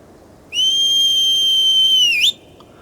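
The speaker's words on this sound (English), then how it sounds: "I was just thinking, what's the opposite of 3 short whistles? And it's 1 long whistle" One long human whistle, a clear steady high tone held for nearly two seconds, rising slightly in pitch just before it ends abruptly; loud and alone.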